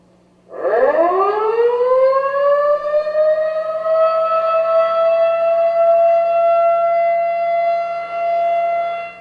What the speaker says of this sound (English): Most counties have outdoor tornado sirens.